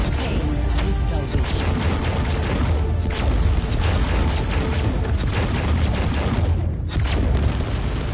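Dense, continuous booms and crashing explosions from the video game Warhammer 40k Inquisitor, loud and layered with rapid impacts and no pause.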